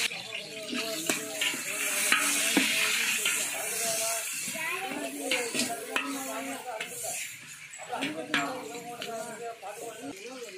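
Onions frying in a pan after whole spices, a continuous sizzle and hiss with occasional stirring and utensil clinks, close by, while a voice talks intermittently over the cooking.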